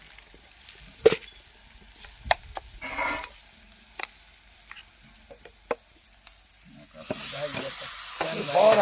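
Moong dal sizzles and fries in a pan for a sour shepu chuka bhaji, with intermittent scraping stirs and clicks over a soft frying hiss that swells louder near the end; a brief spoken word is heard.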